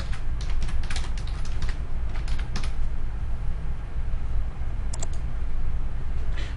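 Fingers type a project name on a computer keyboard, a steady run of close, crisp key clicks with brief pauses and no speech.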